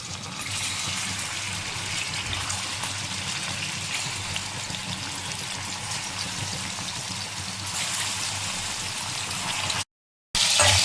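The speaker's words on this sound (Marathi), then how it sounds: "कोळंबी रेस्टर 10 मिनिटं करून ठेवली होती, ती आपण फ्राय करायला टाकतोय ह्याच्यामध्ये" Prawns sizzle in hot oil in a wok, a steady, close hiss and crackle that runs without a break before cutting out abruptly near the end.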